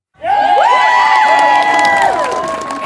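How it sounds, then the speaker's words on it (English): A church children's program cheer squad erupts in loud cheering and shouting, a sudden burst of high, overlapping young voices that holds steady for a few seconds before easing slightly. "Let's give it up for the cheer squad."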